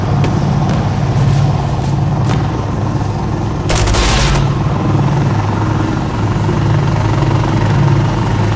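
Gunfire in the video game Insurgency Sandstorm: scattered sharp shots and one loud, dense burst over a constant rumbling engine-like drone, no voices heard.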